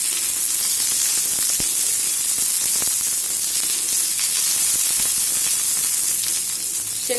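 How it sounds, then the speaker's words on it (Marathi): Ingredients for upvas thecha, a spicy Maharashtrian fasting chutney, fry and sizzle steadily in a pan, a continuous bright crackling hiss with occasional small pops throughout. "व्यवस्थित अशा भाजून घ्यायचं आहे, म्हणजे मस्त तळून घ्यायचं आहे।"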